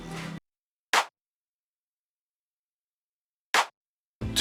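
A snare layered with a clap sample in a beat gives two sharp, snappy isolated hits spaced over two seconds apart in silence, with a brief tail of other sound at the start and end.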